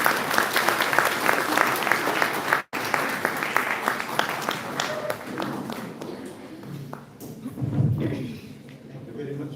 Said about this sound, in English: Ladies and gentlemen, can we have applause for Dr.